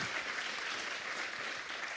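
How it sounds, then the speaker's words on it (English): Conference audience applauding a speaker at a web performance talk, a steady wash of many hands clapping, moderately loud and unbroken, with no voices. "please give a huge round of applause to Henri."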